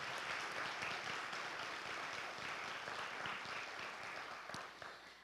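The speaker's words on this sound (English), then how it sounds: "Let's give them a big round of applause" An audience at a library-sponsored talk on curiosity gives sustained applause for the event's sponsors, a dense wash of clapping that holds steady for several seconds before tapering slightly at the end.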